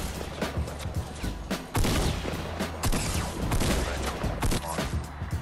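Dense video game gunfire: rapid shots and bursts rattle almost without pause, some of them louder impacts that come close together.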